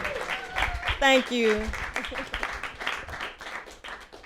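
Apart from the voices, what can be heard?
audience applause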